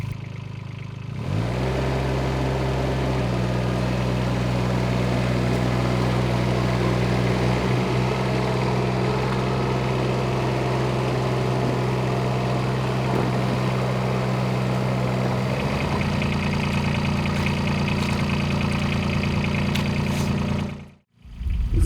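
An engine-driven water pump draining a flooded pit on a barn renovation site starts up and runs with a steady mid-pitched drone, close and loud, shifting tone briefly near the end before cutting out.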